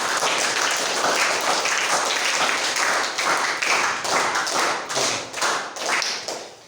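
Classroom students break into loud group clapping at a government high school, a steady crowded patter that thins into a few separate claps near the end, with no voices.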